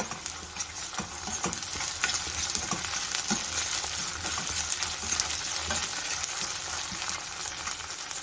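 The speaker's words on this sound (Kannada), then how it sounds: "ಇದನ್ನು ಹಾಕ್ಕೊಂಡು ಇದರ ಹಸಿ ವಾಸನೆ ಹೋಗೋವರೆಗೂ ಉಳ್ಕೋಬೇಕಾಗತ್ತೆ" Ginger garlic paste frying with onions in a pan, giving a steady, dense sizzle with light stirring scrapes throughout and no talk.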